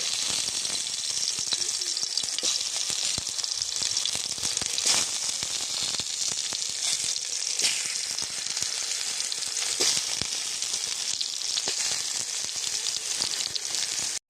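Cut tomato pieces fry in a little oil with a dense, close crackling sizzle and scattered sharper pops, continuous throughout and free of talk.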